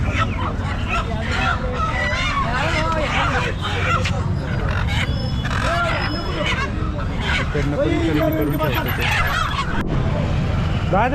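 Many chickens cluck and squawk continuously amid a busy crowd murmur at the Chakan poultry market, a dense, noisy market scene with people talking nearby.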